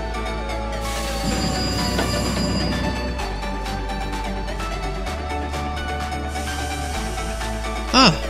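A TGV La Poste train runs in the Roblox game Terminal Railways, a steady low rumble with squealing tones and shifting hum, closing with a brief loud burst.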